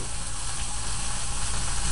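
A New York strip steak searing in a hot pan, a loud continuous sizzle and hiss of fat spitting, steady throughout with no talking.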